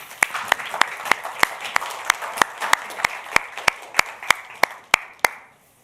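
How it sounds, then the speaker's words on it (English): An audience at a Creative Brain Week orchestra event claps together in a steady, even rhythm, about eighteen sharp claps in unison over a faint crowd murmur, ending abruptly. "A round of applause, please."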